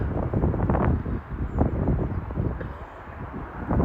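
Steady wind rushes and buffets across the microphone, a loud continuous roar that swells and dips with the gusts.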